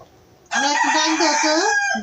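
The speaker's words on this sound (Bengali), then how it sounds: "এই যে সাইডের দিকে যে মুরগির আওয়াজগুলো শোনা যায়" After half a second of near quiet, a rooster from a village backyard flock in Bangladesh lets out a loud, close crow that holds steady for about a second and a half.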